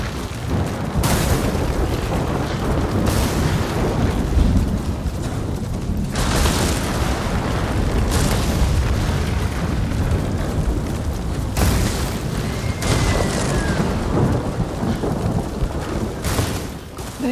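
Deafening thunder in the video game Ghost of Tsushima, heavy booming rolls of thunder crashing repeatedly over a steady wash of rain, loud and close, with no speech.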